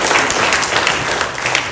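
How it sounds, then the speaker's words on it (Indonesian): Congregation applauding during a Sunday church worship service, a dense, steady wash of clapping that fills the whole moment without any voices over it. "Tepuk tangan untuk Tuhan Yesus."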